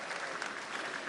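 An audience at a seminar on road and bridge construction bursts into brief, steady applause to welcome the Madhya Pradesh PWD minister, a short, even wash of clapping heard at moderate distance.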